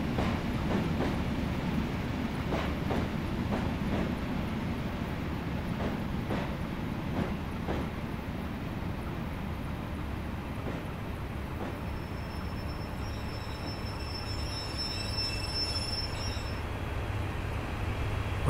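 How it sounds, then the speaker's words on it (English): An HST train crosses the line ahead in Train Simulator 2018 on the Netherfield–Nottingham route, a steady low rumble and rail clatter running throughout, with a thin high whine rising near the end. "We have a HST that is just crossing the line in front of us"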